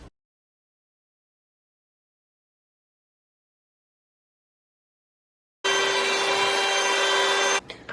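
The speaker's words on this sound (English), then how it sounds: "we're going to be whisking it" A whisk beats instant coffee, sugar and hot water into whipped coffee, a close, steady scraping and whirring that begins abruptly after long silence and runs for about two seconds.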